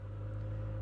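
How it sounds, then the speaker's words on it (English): Hybrid car engine running in recharge mode, a steady low hum with a constant tone, close and even with no talk. "You'll hear that engine actually fire up"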